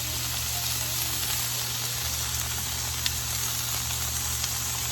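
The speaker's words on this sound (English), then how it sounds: "You gotta like that sizzle though" Loud, steady sizzling from Philly cheesesteak meat frying on a Masterbuilt Gravity Series 800 griddle, a dense crackling hiss that continues without pause.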